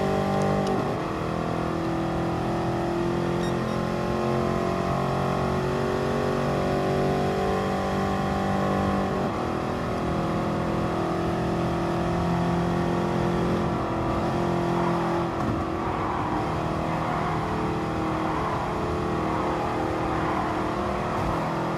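A Pantera race car in Gran Turismo Sport drones steadily throughout, its engine holding a sustained rev with shifting pitch as it races, loud and continuous with no talk.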